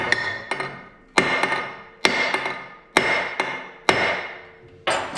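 Sharp hammer blows strike a tight metal part during an engine repair on a Lynx snowmobile, at a steady, deliberate pace, about seven ringing hits with short decays between them, close by and fairly loud.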